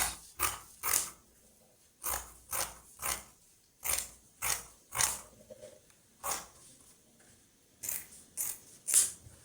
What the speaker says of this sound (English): I'm going to cut it.